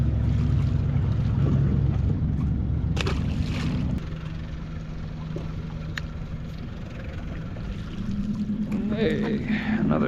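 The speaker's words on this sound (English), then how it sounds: "So I'm bumping the engine in and out of gear." A fishing boat's engine on a fluke and flounder trip is bumped in and out of gear. Its steady low rumble drops in strength partway through, then rises again, with wind and water noise around it.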